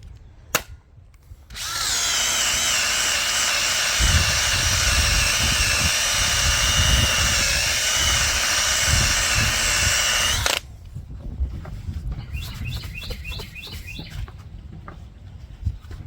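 A cordless drill spins an eraser wheel against old pinstripes on a vehicle, a loud, steady high whine for about nine seconds that cuts off abruptly, leaving quieter handling noises and bird chirps.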